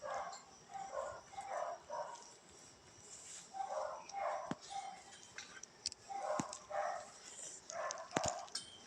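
Dogs bark faintly in the distance during a rambutan harvest, their yaps coming in short repeated clusters against a quiet outdoor background.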